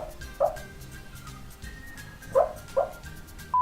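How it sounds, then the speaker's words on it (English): A dog sleeping through a bad dream gives three short muffled yips and whimpers, spaced apart and fairly close, over quiet room noise. "My dog is having a bad dream and she won't leave my side"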